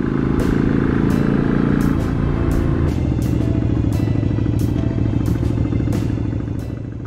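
A Yamaha XV250 Virago motorcycle cruising on a bypass road, its V-twin engine droning loud and steady with a shift in pitch partway through, plus rhythmic ticking clicks over the engine note.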